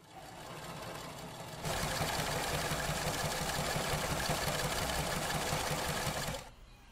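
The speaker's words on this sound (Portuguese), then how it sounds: "Essa máquina de costura é uma réplica da máquina da minha avó" A replica of an old grandmother's sewing machine runs in a steady, close mechanical whirr that starts abruptly, holds for several seconds and then stops, alone without talk.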